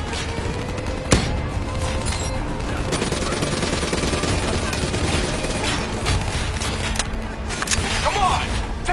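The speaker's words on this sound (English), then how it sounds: "Hit him with the swarm launcher!" Swarm launcher fire in a shooter video game during a building assault, a sharp burst near 1 s over a dense, continuous mix of gunfire, explosions and shouted battle voices.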